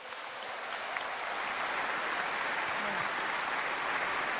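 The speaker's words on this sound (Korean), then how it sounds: "여러분, 저분들을 위해서 박수." Applause at a business seminar: a large crowd claps in a steady, dense roar that builds slightly then holds evenly, with a faint voice briefly audible beneath.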